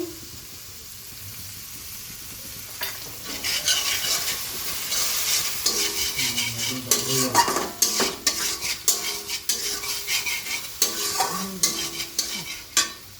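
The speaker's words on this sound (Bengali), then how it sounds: "মশলাটা আগে কষিয়ে নেব" Spice paste with green chillies and salt fries and is stirred in a pan for a potato and pointed gourd vegetable curry, steady sizzle under repeated scraping and clinking strokes of a spoon, close and fairly loud.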